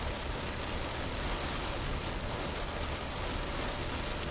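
Heavy rain falling in Sweihan, Abu Dhabi, a dense, even hiss of downpour with no letup, moderately quiet and heard alone.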